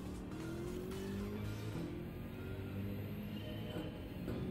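A Mercedes AMG GTS racing in a video game on a Barcelona circuit, a continuous roaring engine drone with shifting pitch and tire noise, loud and steady throughout.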